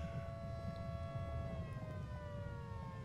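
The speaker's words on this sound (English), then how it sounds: "That siren, it's terrifying." A rising-and-falling siren wails steadily in the game Volcanoids over a low rumbling backdrop, sustained and fairly loud, with no voices.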